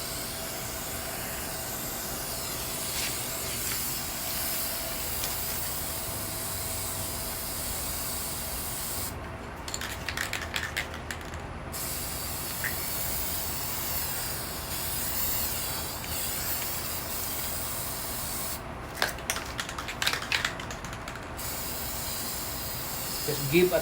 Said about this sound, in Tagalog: you just sit in a while and spray again